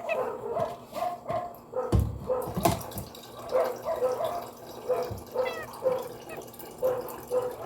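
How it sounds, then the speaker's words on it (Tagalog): A dog barks over and over in short, rhythmic bursts at moderate distance near a kitchen at the back of a house. A few sharper knocks and faint water sounds break in between the barks. "Ang ingay ng aso."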